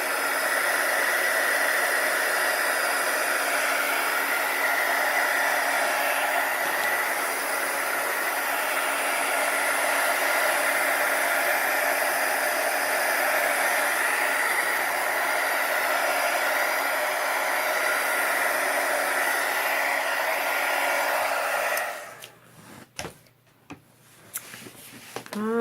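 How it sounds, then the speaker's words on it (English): A heat gun blows steadily over poured acrylic paint in a broad, even hiss that holds for about twenty-two seconds before cutting off abruptly, followed by a few soft handling knocks. "I'm going to hit it quickly with the heat gun, see if it does anything that I like."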